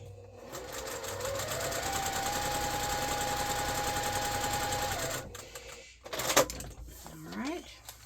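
A sewing machine hums and rattles steadily for about five seconds, stitching fabric scraps along a line, then stops, followed by a few close clunks and shuffling handling noises.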